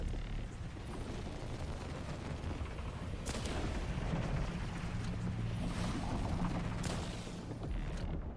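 Gunshots fired at a shark in The Last Caretaker ring out as two sharp cracks a few seconds apart over a steady mechanical and watery rumble.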